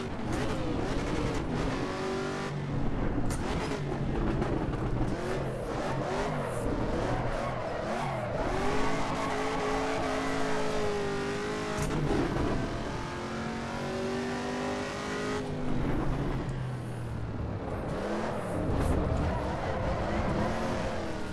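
Race car engine in the Assetto Corsa EVO racing video game, rising and falling revs through gear changes with braking and lifts, loud and continuous engine tones throughout, no speech.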